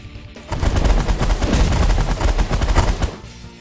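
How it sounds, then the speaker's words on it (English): A disruptor enemy in the space strategy game The Last Federation fires a loud, dense burst of rapid, rattling shots lasting a few seconds before cutting off. "It's a disruptor enemy shot."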